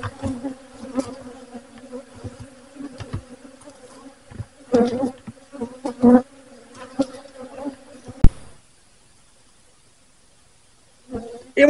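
Honeybees buzzing around an open hive, a steady droning hum close by with louder passes and some handling knocks, dropping to silence before a brief return at the end.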